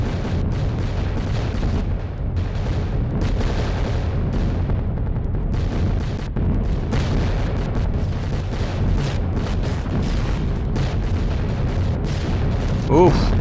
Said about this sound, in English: the expected flak starts blackening in the sky